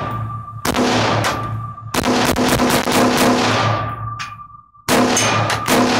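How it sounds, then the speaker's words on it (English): Rifle shots from a Dead Foot Arms MCS AR15 with a folding stock ring out close and loud, three heavy blasts spaced a second or two apart, each trailing into a long echoing decay. "we have been shooting the Deadfoot Arms modified cycle system"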